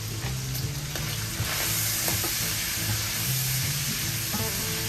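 Sausage sizzling and being stirred in a frying pan while making stuffed peppers, a steady loud crackle and hiss with occasional scraping stirs throughout.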